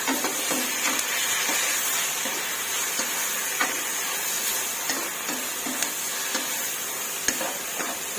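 Mixed vegetables stir-frying in a pan, a steady close sizzle and hiss with scattered clinks and scrapes of a utensil stirring throughout, no voices.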